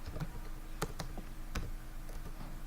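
Scattered keystrokes clicking on a French computer keyboard while typing Linux commands, a few sharp taps spaced irregularly over a steady low background hum.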